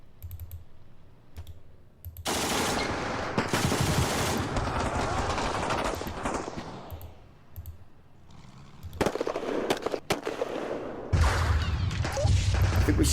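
Bursts of gunfire and explosions from an attack in the wargame Panzer Campaigns Kiev '43, loud rattling volleys and crackling blasts with brief gaps, then heavy rumbling fire near the end.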